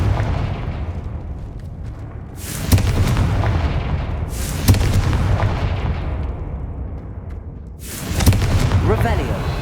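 The Confringo blasting spell goes off in the Hogwarts Legacy video game as three loud, booming explosions, each a sudden burst that fades into a rumbling tail, with dense game noise continuing between them.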